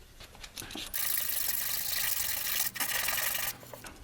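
Emery cloth of 150 and 220 grit rubbed over a camera slider part, a steady close broadband hiss of sanding that runs for a few seconds with a brief break, starting and stopping abruptly.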